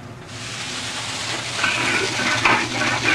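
Hot wok being cleaned with hot water, a loud steady hiss and sizzle that swells and crackles as the water hits the metal, close and continuous.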